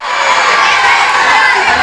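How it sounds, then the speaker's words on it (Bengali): School students in a crowd break into loud, close cheering and shouting. A brief burst of excited voices swells and holds for under two seconds, with no clear applause. "জিজ্ঞাসার জন্য একটা বড় হাততালি হবে"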